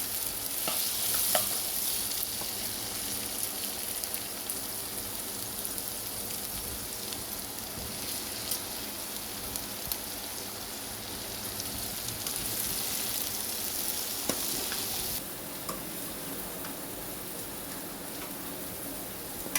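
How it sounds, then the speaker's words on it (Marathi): Cauliflower with chilli powder sautéing in a pan sizzles steadily for a long stretch, with an occasional scrape or tap of the spoon as it is stirred, and no talking. "परतून घ्यायचं छान, सगळं एकत्र मिक्स करायचं छानपैकी"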